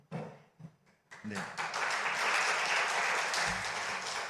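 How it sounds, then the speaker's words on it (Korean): Applause from a church congregation at a Wednesday Bible study gathering, starting with a few scattered claps then swelling into a sustained, fairly loud round of clapping that holds to the end. "네, 박수입니다."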